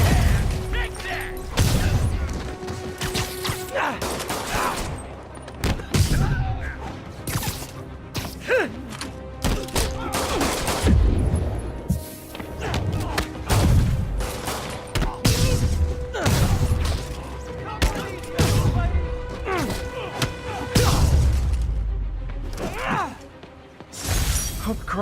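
Gunfire and impacts in the Spider-Man video game, with repeated sharp bursts and heavy thuds crashing loudly and steadily across a busy action fight, game voices shouting between the shots.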